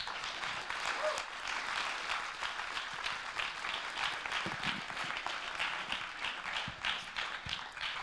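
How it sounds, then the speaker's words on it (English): An audience at a master's thesis defence applauds the presenting team, steady dense clapping throughout with a somewhat distant, roomy quality and no talking. "you can applaud them"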